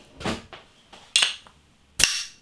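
A metal cap is levered off a beer bottle with a worn bottle opener. There are three sharp clicks and pops, each followed by a brief fizzing tail, with no voices.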